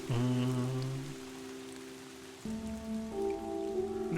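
Steady rain patters through the island landscape of the video game Dear Esther, a soft continuous hiss under sustained droning musical tones that shift partway through.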